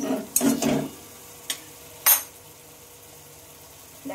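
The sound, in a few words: spice paste sautéing in oil for fish paturi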